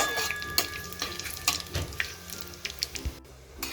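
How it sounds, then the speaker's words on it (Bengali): Whole spices with a bay leaf fry in hot oil as a tempering for an ash gourd and prawn dish, crackling close up with repeated light knocks of a spoon stirring the pan in an irregular rhythm. "এখন ফোড়নটাকে হালকা হাতে আমি নাড়িয়ে চাড়িয়ে একটু ভেজে নেব"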